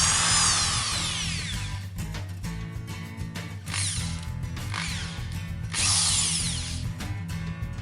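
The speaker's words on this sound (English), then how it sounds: "the drill will keep running even when you release your finger from the trigger" A corded power drill running continuously, a loud steady motor whine with rising and falling pitch sweeps and some mechanical rattling, close by and alone without speech.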